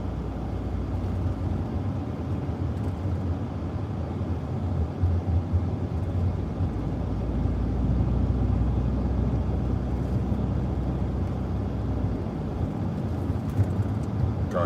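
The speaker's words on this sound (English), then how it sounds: "Trying to drive a car." A car driving through the night, with a steady low road rumble and engine hum inside the cabin that swells slightly midway, continuous and unbroken, with no talking.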